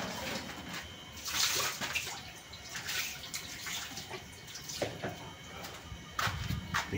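Food, likely fruit for turon and a snack, rinsed under running tap water, a steady splashing hiss with a few louder gushes and clatters throughout, close by with no talking.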